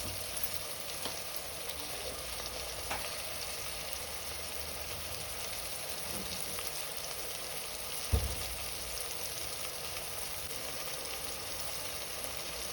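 Ginger garlic paste fries in a pan for a fish curry, bommidala pulusu: a steady, even sizzle hiss runs throughout, broken by one soft knock near the end.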